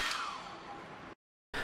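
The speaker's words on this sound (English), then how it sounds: "Take a hairdryer and heat display surface for 1 or 2 minutes." A hairdryer heats the display surface of an iPhone 8 Plus. It gives a steady, fairly quiet airy whoosh that cuts out briefly and then starts again.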